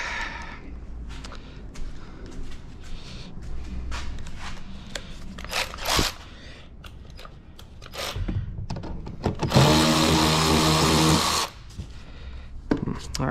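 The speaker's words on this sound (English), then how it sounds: "Grab our 1/4 inch ratchet. Grab a battery." Cordless 1/4 inch ratchet spinning in a cluttered shop, heard as a close, loud two-second buzzing whir after scattered clunks and handling noises, with someone talking around it.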